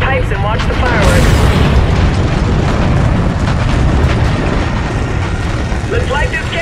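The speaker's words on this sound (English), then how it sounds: "Get visual on that tower detonation." A tower detonation explosion in the Call of Duty: Infinite Warfare video game fills the scene with a loud, sustained booming rumble and crackling debris.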